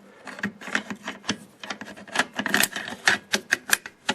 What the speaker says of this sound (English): So I'll go ahead and install the bolt back into the rifle.